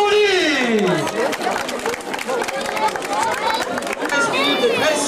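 A crowd at the Tour de la Serra fun run applauds the top five finishers, with dense clapping and lively chatter together with a loudspeaker voice and whistle-like tones over the gathering.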